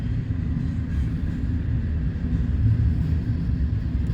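A freight train of container well cars loaded with 20-, 40- and 45-foot boxes rolls past, giving a continuous, steady low rumble and rattle at fairly close range.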